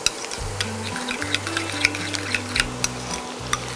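A spoon works through a yogurt marinade mixed with ginger garlic paste in a bowl, giving a run of light clinks and soft scrapes over a steady low hum, with no talking.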